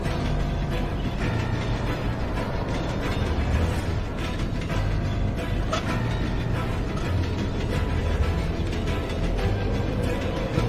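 Tightening screws on a wobbly crane in Goodbye Deponia: a steady, dense mechanical clatter of ratcheting and creaking gears that runs without pause, with no voices.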